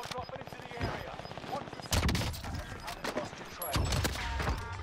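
Kar98k sniper rifle shots in Warzone, sharp cracks firing in a loose rapid series amid other game gunfire, with a player's voice talking over the action.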